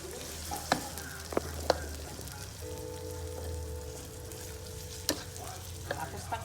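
Beer-marinated beef with ginger sautéing in a pan gives a steady close sizzle. A few sharp clacks of stirring break through it, and no one talks.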